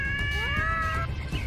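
A cat lets out a drawn-out, wavering meow that bends in pitch over about a second, fairly close and loud above a low background rumble, then a brief faint trailing mew.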